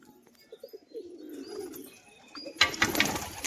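Pet pigeons kept for sale give soft, low coos in short bursts. A louder rustle and flutter of wings follows near the end, all close by in a quiet setting.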